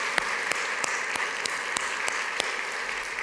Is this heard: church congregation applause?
yes